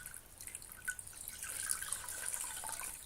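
Water drips and splashes faintly at a bathroom sink while the face is rinsed during a nighttime skincare routine, making soft, irregular trickles with no voices.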